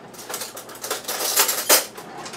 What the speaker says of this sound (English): So we stir all those ingredients together